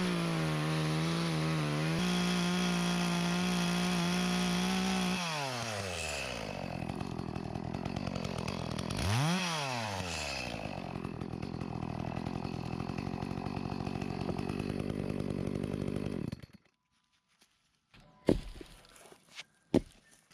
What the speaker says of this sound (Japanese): 庭に転がってるね、木を今度はひたすら切って割って保管していくっていう作業に入っていきます